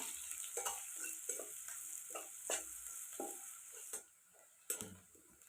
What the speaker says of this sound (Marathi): फोडणीमध्ये कांदा टाकून घेतलेला आहे कांदा पण चांगला तळून घ्यायचा